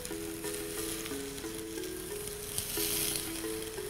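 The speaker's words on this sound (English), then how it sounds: "Listen to that sizzle." Satay skewers sizzle on a hot cooking surface at a night market, a steady close frying hiss with background music and market ambience mixed in.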